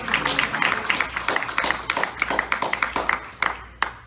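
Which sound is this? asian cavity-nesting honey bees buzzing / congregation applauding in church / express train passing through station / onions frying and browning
congregation applauding in church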